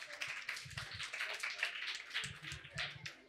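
Audience applause at a personality development session, a steady patter of many hands clapping at moderate volume, with brief voices underneath.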